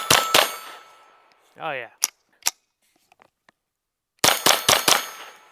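A Derya Arms TM22 .22 rifle fired with CCI Velocitor ammunition: two sharp, loud cracks, then a short spoken phrase, a pair of lighter metallic clicks, and a rapid string of four or five shots near the end.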